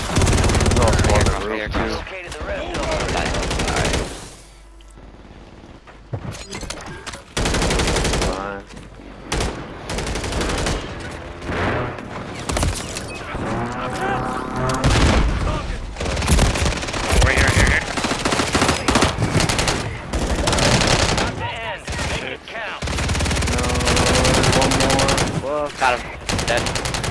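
Call of Duty video game gunfire: repeated bursts of machine-gun and rifle shots across the whole stretch, some loud and near, with brief lulls and a short quiet gap, and a voice talking in places between the volleys.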